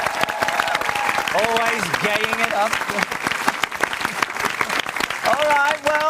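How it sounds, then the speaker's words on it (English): A studio audience at a live television talk show's final episode claps loudly and continuously, with a voice talking over the sustained applause. "I think a very special round of applause, ladies and gentlemen, for the man who puts it together each and every week"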